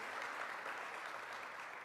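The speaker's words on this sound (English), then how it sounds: "Let's give him a round of applause." Audience at a community announcement in Buffalo giving a round of applause for the Reverend, the NAACP head who chaired a commission; a soft, even wash of many hands clapping, fairly distant and brief.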